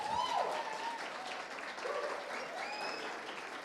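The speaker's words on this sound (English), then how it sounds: "Then you can clap for them." An audience applauds at an event, a broad wash of clapping that runs throughout, with a few faint whistles or cheers rising above it.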